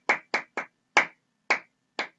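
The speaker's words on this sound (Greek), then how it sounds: "Ένα χειροκρότημα για αυτό που είπε." Six sharp hand claps in a radio studio, spaced unevenly and each ringing briefly before fading, with no voices between them.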